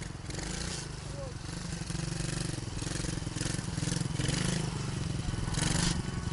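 An off-road motorcycle runs under a learning rider, its engine buzzing steadily with rising and falling revs at moderate distance while someone talks over it.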